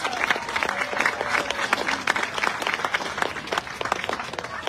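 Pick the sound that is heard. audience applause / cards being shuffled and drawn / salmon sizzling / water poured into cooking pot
audience applause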